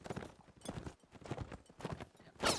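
Cavalry horses gallop in Mount and Blade Warband: Napoleonic Wars, with rapid rhythmic hoofbeats in repeated bursts and a brief louder clash at the end, moderately faint.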